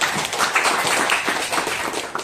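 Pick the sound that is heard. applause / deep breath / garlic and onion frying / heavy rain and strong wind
applause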